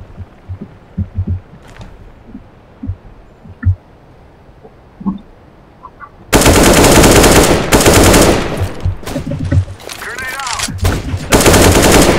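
Quiet scattered sounds give way to loud, sustained rapid gunfire with explosions in Counter-Strike: Global Offensive, the bursts packed densely and dominating the second half.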